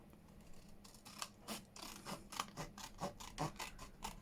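Scissors cutting through folded paper for a junk journal pocket, a run of short rasping snips in steady rhythm, close and fairly quiet with no talking.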